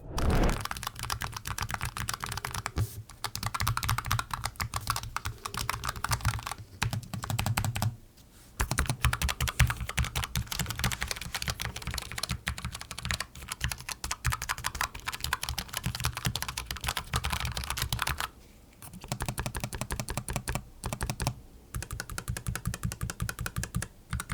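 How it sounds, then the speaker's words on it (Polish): Steady, fast typing on a Keychron K5X low-profile wireless keyboard with red switches, soft clicky keystrokes in continuous runs with a couple of short pauses. "żebyście posłuchali, jak brzmi ta klawiatura"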